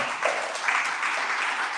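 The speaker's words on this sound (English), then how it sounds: "Let's give a round of applause to them" An audience at a voting rights gathering claps in a steady, moderately loud round of applause that holds evenly without talk.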